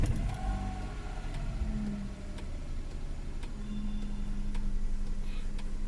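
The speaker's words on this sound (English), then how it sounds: "Alright guys, so time to start up the engine." Hyundai Eon engine, just after its purge solenoid valve was cleaned, cranks and catches, then settles into a steady low idle that hums close by for several seconds, with faint ticking and no talking.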